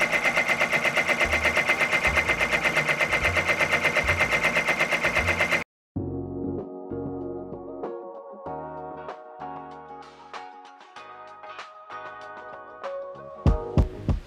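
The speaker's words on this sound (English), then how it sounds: "the first stitch you do with applique is just a little stitch that shows you where you're going to be putting your fabric down" A home embroidery machine stitches a short appliqué placement line for fabric on a monogram project, first as a steady rapid mechanical hum of needle strokes, then after a brief pause as lighter, irregular stitching ticks and clicks up close.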